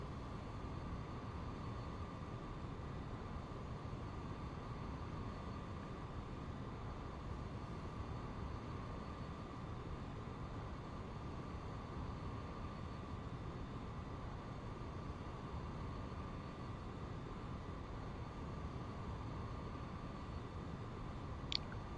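A steady, low whine and hum from a Cirrus SF50 single-engine jet in the X-Plane 11 flight simulator, holding constant and fairly quiet throughout with no speech.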